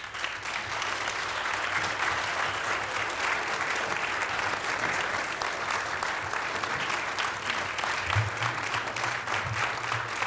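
Sustained applause from an audience at a Linden city council reorganization meeting, a steady, dense wash of many hands clapping that holds evenly for about ten seconds without a break.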